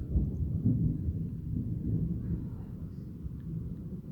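Low thunder rolls continuously through a storm, a deep, steady rumble that is moderately loud and fairly close, with no clear speech over it.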